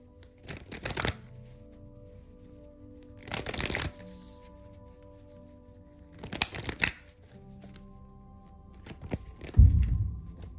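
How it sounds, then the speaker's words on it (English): Tarot cards are shuffled by hand in three quick, crisp bursts about three seconds apart against a quiet room hum, with a soft thump near the end. "Okay, so now I'm gonna pick some cards for the situation."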